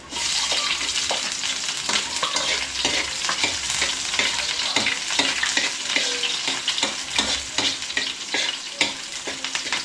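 Garlic and onion frying in a pan for fresh pansit, a loud continuous sizzle broken by frequent scraping stirs of a utensil against the pan, close up with no talking.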